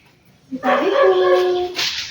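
A dog gives a drawn-out whimpering yelp, a tonal whine rising and holding for over a second, close and fairly loud, near a flood-damaged, abandoned village, with no talk over it.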